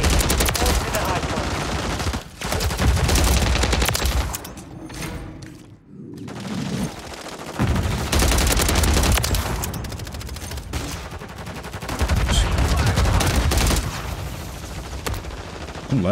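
Sustained automatic gunfire from the player's gun in Call of Duty MW3, loud and dense, with short lulls and a brief gap near the middle before bursts resume, set in a striker loadout match.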